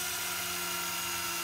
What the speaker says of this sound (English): I use a 1/8, 125 drill bit.